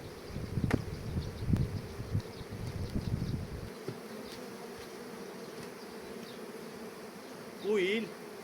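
Honeybees buzz around beehives in a close, steady drone with several loud passes near the listener, then a quieter hum continues, briefly interrupted by a short rustle near the end.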